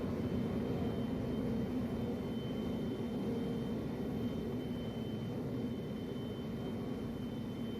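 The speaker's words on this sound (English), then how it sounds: "I'm just holding down my retro thruster button. It's firing my front thrusters." Spaceship retro thrusters firing in the Star Citizen game, a continuous low, dense engine roar holding steady and fairly loud throughout with no breaks.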